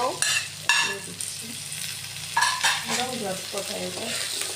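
Potatoes drop into a hot pan of frying onions with a burst of sizzling, followed by scraping and stirring as the frying continues steadily up close.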